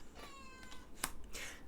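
A cat gives a single close, drawn-out meow with a falling pitch indoors, followed by a brief sharp click and soft rustling.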